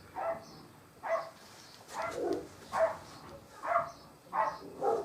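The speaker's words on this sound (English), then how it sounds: "That's my dog having a go." A pet dog barks in a rough, repeated run of about six or seven woofs spaced fairly evenly, moderately close and fairly loud indoors, with no talking over it.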